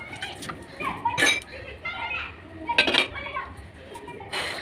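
Dishes and metal utensils being washed in a home kitchen, with sharp clinks and clatters in short irregular bursts over soft background noise and occasional voices.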